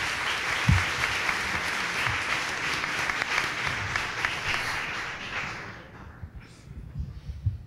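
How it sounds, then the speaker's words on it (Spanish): Audience applauds steadily at a book presentation, a dense sustained wash of clapping that thins and tapers off near the end, with a few scattered claps and faint murmur remaining. "Las palmas para él, por favor."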